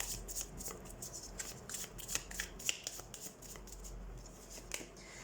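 Tarot cards shuffled and drawn by hand, a steady run of crisp riffling flicks and light slaps close up, with a few sharper snaps along the way and no talking.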